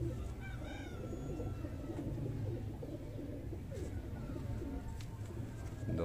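Breeder pigeons coo softly against a steady low rumble, the calls blending into a continuous murmur with a few brighter chirps drifting in, close by and unbroken for several seconds.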